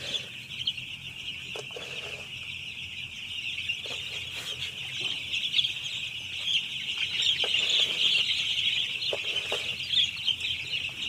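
Broiler chickens cluck and chirp steadily throughout, a dense flock chorus with a persistent high-pitched hum of birds, no talking.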